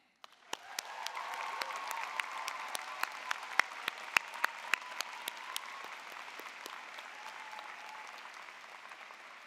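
Audience applause at a law school spring commencement ceremony, a moderate wash of clapping with sharp individual claps standing out, rising quickly and fading gently near the end.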